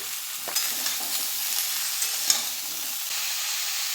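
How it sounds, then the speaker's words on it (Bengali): Mixed vegetables with salt frying in oil in a pan for a light vegetarian curry, giving a steady bright sizzle with a few soft stirring scrapes and clinks, close and alone. "এবার একটু লবণ দিয়ে দিচ্ছি, সবজিগুলো নরম হয়ে যাবে ভাজতে ভাজতেই"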